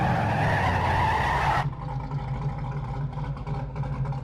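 A drift car's engine roars with tire skidding in CarX Drift Racing Online, loud and close, with a bright squeal that cuts off abruptly to leave a lower engine burble.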